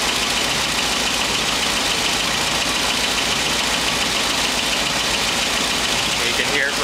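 A 1959 Cadillac engine idling steadily at close range, a constant rumbling drone with a faint ticking texture throughout.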